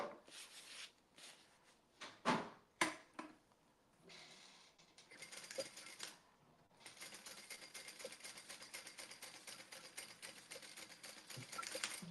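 A sewing machine stitching across the bottom of a fabric piece, with a few loud clunks and handling knocks early, then a steady run of fast mechanical stitching that continues to the end.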